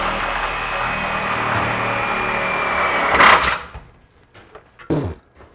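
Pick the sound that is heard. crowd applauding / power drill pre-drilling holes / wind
power drill pre-drilling holes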